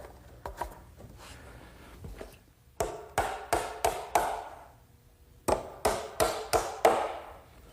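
Sharp hammer blows drive nails through thin 5/8-inch wood scrap spacers in a woodworking shop, a few scattered taps then two quick bursts of five or six ringing strikes each, close and loud with no talking.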